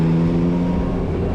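A 2022 Yamaha MT-09 naked triple sounds through its stock exhaust as a steady, droning engine note with strong low harmonics. The note stays loud and even for a short stretch.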